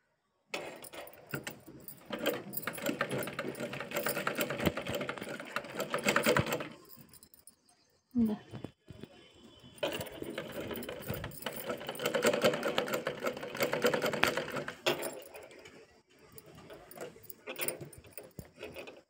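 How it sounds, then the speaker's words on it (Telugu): Sewing machine stitching thick cloth, close whirring bursts of several seconds each separated by short quiet pauses and a few handling clicks. "ఇక్కడ దొడ్డుగా ఉంటుంది కదా బట్ట, మనం నిదానం కుట్టుకోవాలి"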